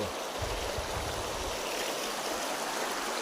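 A rain-swollen river after days of heavy rain rushes past as a steady, broad wash of flowing water, close and constant with no voices or breaks.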